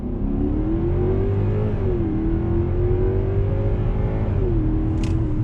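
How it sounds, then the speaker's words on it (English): A Genesis G90 Ultimate V8 luxury sedan pulls away from a dead stop in sport mode, its engine droning steadily up through smooth 8-speed shifts, the pitch climbing, dipping at each change and climbing again, loud and close throughout. "let's do an on-throttle sport mode from a dead stop"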